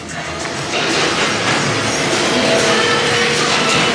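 Rumbling ghost train ride cars at Blackpool Pleasure Beach roll along a track with a steady rattling clatter that swells louder after a moment, close and continuous with no talking.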